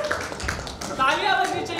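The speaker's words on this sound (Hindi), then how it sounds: "मैं चाहूंगा जोरदार तालियां मुकेश भुगाना जी का" Audience clapping at a business success-story event in Surat, a short burst of many hands applauding, with voices and speech mixed in over it.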